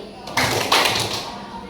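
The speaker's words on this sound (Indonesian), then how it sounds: "tepuk satu dua kali" A pair of children's hand claps in a counted classroom clapping game, two sharp bursts close together over a murmuring background of voices in the room.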